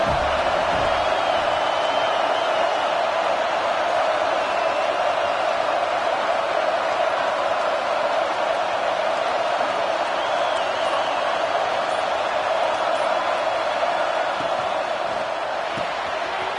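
Stadium crowd at an American college football game roars steadily through a big third-down play, a dense, continuous wall of cheering and whooping at high volume from start to finish.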